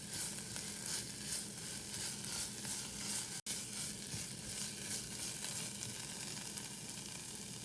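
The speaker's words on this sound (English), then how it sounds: "You need to keep stirring this because we don't want anything to burn." Food sizzles and fries steadily in a pan while being stirred, a dense continuous crackle with soft scraping, close and even throughout, no voices.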